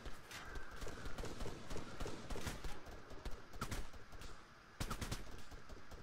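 Gunfire in the military shooter ARMA III: dense, rapid rifle and machine-gun bursts crackle continuously over a constant rumbling din, with a few louder cracks standing out.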